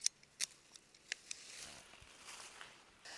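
Pruning shears snip weak young blackcurrant branches, giving several sharp, close clicks in the first second or so, followed by softer rustling and snapping of twigs.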